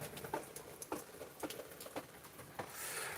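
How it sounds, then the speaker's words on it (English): Light rain falls ahead of an approaching storm in Montana, faint scattered patters and soft taps at an irregular pace over quiet background, with no thunder and no voices. "Just getting some rain."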